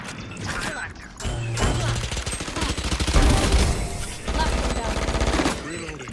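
Rapid gunfire in a VALORANT esports match, dense bursts of automatic shots and impacts over game effects, with a commentator's voice talking over the action.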